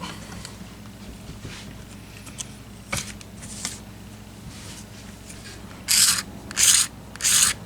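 A guitar maker scrapes a bevel onto the edge of an acoustic guitar pickguard, blade held at 45 degrees: faint scuffing at first, then three loud, evenly spaced rasping strokes close by near the end.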